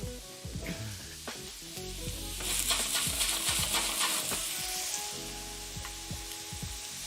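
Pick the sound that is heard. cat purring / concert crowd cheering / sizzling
sizzling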